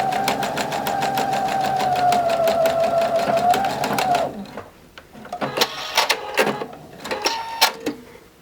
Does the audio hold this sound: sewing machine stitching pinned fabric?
yes